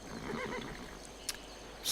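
A horse neighs in the Civilization V: Gods and Kings video game, a short whinny heard faintly at first and then rising into a louder neigh at the end, with a brief sharp tap in between.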